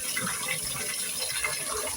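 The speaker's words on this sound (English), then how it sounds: "Pour off the starchy water." Starchy rinse water being poured off basmati rice in a kitchen, a steady close splashing pour that runs without a break and is heard alone.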